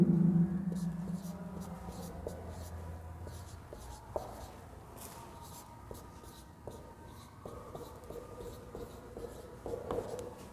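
Chalk writing on a classroom board during a Hindi-language chemistry lesson on carbon compounds: soft, steady scratching and tapping strokes, faint and close, over a low room hum.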